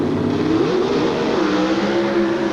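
Drag racing cars launch at the 1988 California Nationals in Sonoma, a loud, continuous engine roar with rising revving tones sweeping upward, dense and close.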